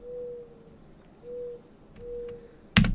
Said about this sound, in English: So that is the sound of the mourning dove.